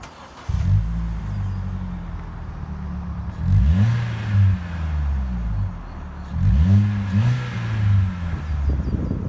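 A car engine revs hard in three bursts through a newly installed exhaust with a K&N filter, each deep rumble climbing and falling back to a loud, throaty idle, recorded up close.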